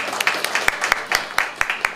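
An audience at an opening ceremony gives a short burst of applause to welcome guests, with sharp, near claps ringing out over a dense background of clapping.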